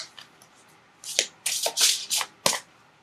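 Tarot cards being shuffled by hand, a quick series of crisp riffling bursts, close and clear, with no talk.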